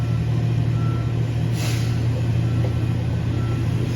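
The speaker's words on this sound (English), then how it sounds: "it's a garbage truck in the alley, basically right next door to me" Garbage truck idling in a nearby alley, its engine rumbling steadily with a faint reversing alarm and a brief hiss of air brakes partway through.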